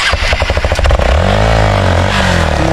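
An off-road motorcycle partly sunk into the ground revs loudly and close by, its engine clattering in rapid pulses before settling into a steady, droning rev with rising and falling pitch.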